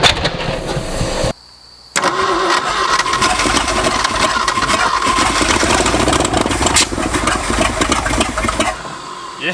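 An old Ford F250 truck engine, unstarted for 26 years, cranks and catches after a brief pause, then runs loud and rough with a steady roar for several seconds before dropping off.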